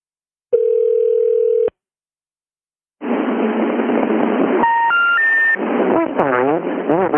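A telephone dial tone sounds steadily for about a second on a disconnected call, then after a pause comes a muffled line recording with a few rising electronic beeps and warbling tones.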